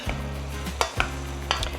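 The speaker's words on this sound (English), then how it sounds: "I'm going to add in our pasta now." Penne pasta is tipped into a hot pan of cooked Italian sausage and softened veggies, a soft sizzle with a few scraping, clinking stirs against the pan, close and brief, no talking.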